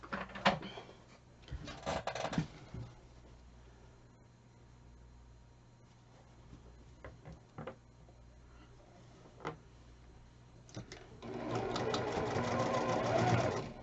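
A sewing machine stitching 1/4 inch seams on a patriotic quilt block, running in a few short close bursts separated by quiet pauses and small handling clicks, with a longer run at the end.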